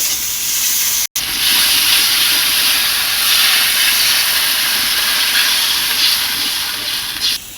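Water poured into hot fried spices in a pan sets off a loud, steady hissing sizzle with rising steam, close up and continuous after a brief cut near the start.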